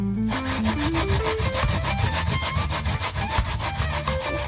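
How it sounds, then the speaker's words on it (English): Coconut is grated by hand for Jamaican coconut toto, a fast, regular run of rasping scrapes close by after a brief falling tone at the start, with no talking. "I'm finished grating my coconut now"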